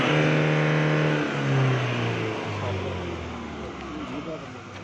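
A 2016 Toyota Innova engine revving during a performance check, steady droning tones that gradually sink in pitch as the revs fall, close and fairly loud, with a voice talking over it.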